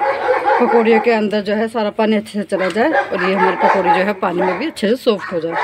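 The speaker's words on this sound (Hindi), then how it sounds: "बराबर में ना कुत्ते इतने भौंक रहे" Neighbourhood dogs bark repeatedly in the background, their yips and barks partly masked by someone talking steadily close by while she cooks pakoras.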